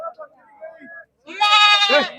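A person speaks briefly, then a goat lets out a loud, close, wavering bleat.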